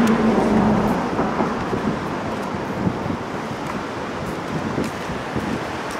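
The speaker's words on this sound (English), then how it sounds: "Waterfall inside the building." Water falls in a waterfall inside an abandoned building of the old Rochester subway, a loud, steady rushing roar that fills the space and echoes slightly, without talk.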